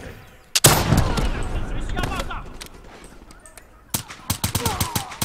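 Sniper rifle fire in Call of Duty: Black Ops 3: one sharp, loud shot near the start, then a quick cluster of cracks toward the end, with a voice talking in between.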